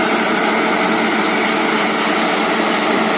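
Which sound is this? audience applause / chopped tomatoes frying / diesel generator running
diesel generator running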